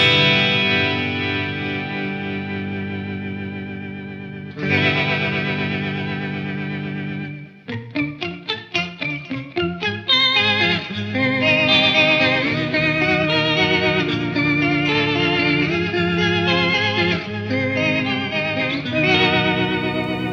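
An electric guitar runs through an MXR Poly Blue Octave pedal set to a swirling, rotating-speaker-like modulation, with sustained chords, a stretch of rapid choppy pulses, then more wavering held chords, all played alone without talk.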